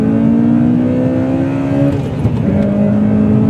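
The small engine of a Honda Accord Euro R revs while driving, a loud, steady high drone heard from inside the car, dipping briefly as it shifts and then climbing again.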